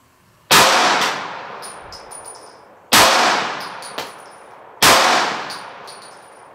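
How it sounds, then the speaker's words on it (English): Three loud, sharp gunshots from a Glock 19 pistol firing 9mm +P PolyCase ARX rounds into clear ballistic gel blocks, spaced about two seconds apart, each with a ringing metallic tail and faint clinks between. "Why don't I try the ARX, 3 more shots with the Glock 19"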